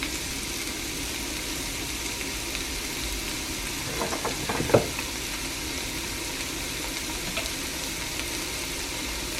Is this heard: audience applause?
no